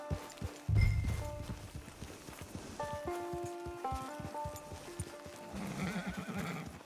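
A horse in the Red Dead Redemption 2 video game whinnies and its hooves clip-clop in a quick run of hits early on, followed by sustained musical tones and more scattered hoofbeats.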